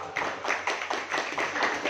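Applause from an audience at an evening gathering in a café rings out as a steady, moderately loud patter of claps, rising in repeated bursts with no talking over it.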